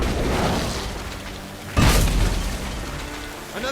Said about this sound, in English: Another cannon! Rapidamente!